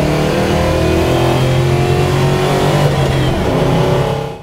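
The V8 engine of a 1966 Beaumont 329 revs hard and close, a deep throaty roar climbing in pitch for several seconds before fading off.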